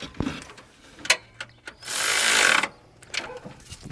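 A ratchet snugs down radiator bolts on a 2006-2010 Toyota Camry during a radiator replacement, with scattered close clicks and a brief rapid burst of ratcheting in the middle.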